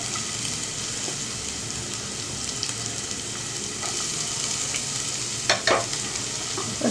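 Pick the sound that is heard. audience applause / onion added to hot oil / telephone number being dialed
onion added to hot oil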